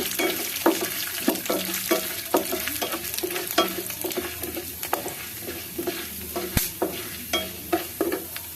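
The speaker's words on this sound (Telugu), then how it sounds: "కొంచెం శనగపప్పు వేగిన తర్వాత మినప్పప్పు కూడా వేసుకోవాలండి" Chana dal and urad dal frying in a spoonful of oil, a constant close sizzle with regular scraping stirs of a ladle and one sharp metallic tap, no talking.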